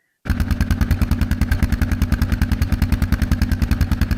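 A small ATV engine idles with a fast, even chugging pulse, loud and close, running steadily after starting abruptly from silence.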